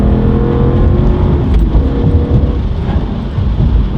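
A BMW E39 M5 drives along with a loud, steady engine drone and road rumble, the pitch rising slightly as it accelerates.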